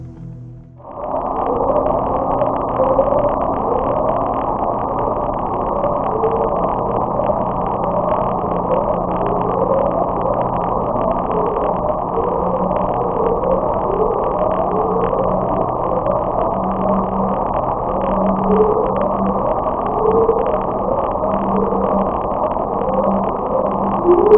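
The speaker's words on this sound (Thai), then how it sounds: "upsweep คือเสียงที่ถูกจับเอาไว้ได้ด้วยไฮโดรโฟนของ NOAA จากบริเวณเส้นศูนย์สูตร" A continuous low underwater drone with repeating rising tonal sweeps, the upsweep recorded in August 1991 by a NOAA hydrophone near the equatorial Pacific, steady and droning throughout, with a faint crackly hiss.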